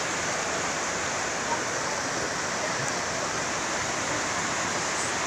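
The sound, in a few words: swift river water flowing under a bridge, Kaligung River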